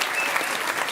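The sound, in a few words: applause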